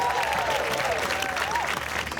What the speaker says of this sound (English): Give Di a round of applause